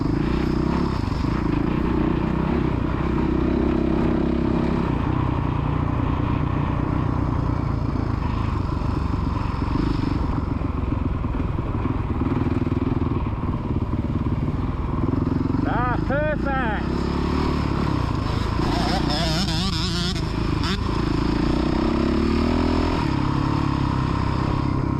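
A kids' motocross bike revs and runs continuously on the Astley MX main track, a loud droning engine throughout with rising revs midway, while people talk over it.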